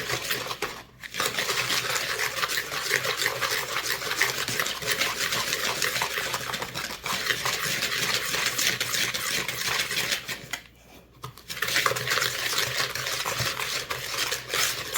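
Banana pumpkin bread batter stirred by hand in a bowl makes a continuous wet, scraping swish that runs nearly without pause, with two brief gaps, close and fairly loud.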